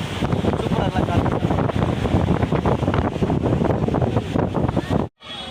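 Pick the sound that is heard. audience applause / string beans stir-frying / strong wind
strong wind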